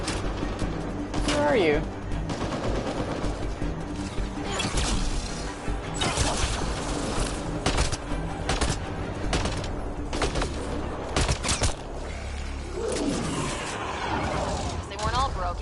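Enemy gunfire in Mass Effect Andromeda crackles in repeated bursts and scattered shots, with mechanical clanks and a few crashing impacts, while a person talks over the fighting.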